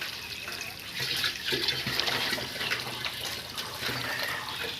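A water tap runs into a container, filling it with muddy drinking water in a village, a steady splashing gush that holds at an even level throughout, close by and with no talk.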